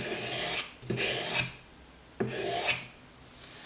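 A karambit knife blade is sharpened on sandpaper in three long rasping strokes, each a loud abrasive scrape of about half a second to a second, separated by short pauses, heard close up with no talking.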